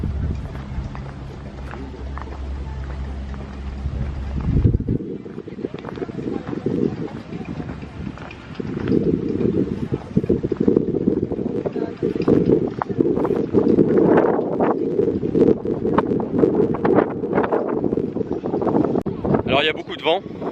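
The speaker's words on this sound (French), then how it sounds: "Alors il y a beaucoup de vent." Steady rushing wind roars and buffets throughout in Yuzhno-Sakhalinsk, Russia, with a low rumble in the first few seconds and gusts rising and falling.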